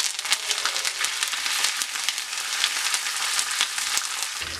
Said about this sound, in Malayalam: ഞാൻ കടുക് വറുത്തേക്കത്തേക്ക് ചേർത്ത് വറുത്താണ് ഇഞ്ചി ചേർത്ത് കൊടുക്കുന്നത്